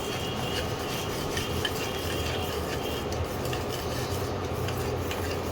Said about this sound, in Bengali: আর দেবো নাড়িয়ে নিই, ভালো করে মিশিয়ে নিতে হবে।